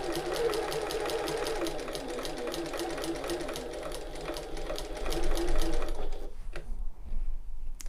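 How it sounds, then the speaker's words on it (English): A sewing machine basts a curved quarter-inch seam on tote bag fabric, its needle chattering in a fast, steady rhythm up close for about six seconds before it slows and stops, leaving a low hum. "sewing machine, and I'm going to sew at 1/4 inch or 6mm just to baste this into place"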